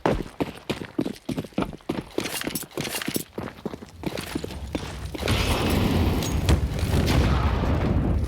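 Grenade blasts on the Inferno map during a Counter-Strike match between FURIA and Cloud9, heard as a run of sharp percussive bursts and footsteps that swell into a sustained, loud rumbling roar.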